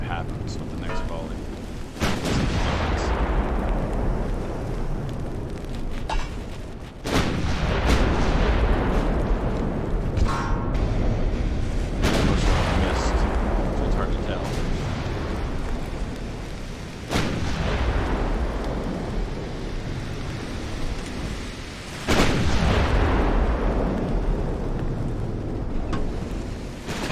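Battleship guns fire high-explosive volleys in the naval game Ultimate Admiral: Dreadnoughts, heavy booming blasts roughly every five seconds, each rolling off into a long rumbling tail over constant wind-like noise.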